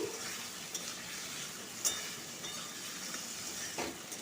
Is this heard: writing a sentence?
no